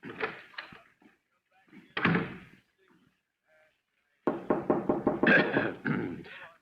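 Knocks land on a door in an old radio drama, with a couple of short raps early on and a quicker run of knocks near the end, separated by quiet gaps.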